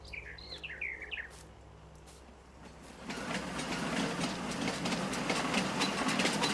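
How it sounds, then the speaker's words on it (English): A train rolling along rails in the farming game Farming Simulator 19, a steady rising clatter and rumble that builds and stays loud, with birds chirping at the start before the train comes in. "Oh, we got a little custom train line."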